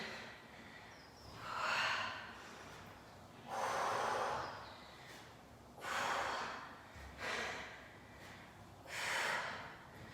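Heavy, forceful breaths during a Tabata full body workout, coming in four loud bursts about two seconds apart with quieter panting between, close to the mic and with no talking.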